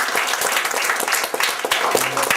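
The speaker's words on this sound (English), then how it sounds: "So a round of applause for them." Audience applause at a Tevaram devotional music program, steady dense clapping from a crowd filling the whole stretch, fairly close and even in loudness.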